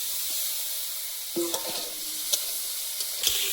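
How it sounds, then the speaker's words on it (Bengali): Crab sautéing with spices in an oiled pan, a soft continuous sizzle with a few brief scrapes and taps of a spoon, no voices. "মশলার সঙ্গে ভালোভাবে কাঁকড়াটা কষিয়ে নেব"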